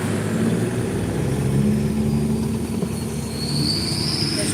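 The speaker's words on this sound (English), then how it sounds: "Gotta make the truck squeal because you can't make nothing else squeal." At a Pigeon Forge rod run on a Saturday night, a truck's tires squeal over a steady, loud engine and road rumble, with a rising high-pitched screech in the last seconds.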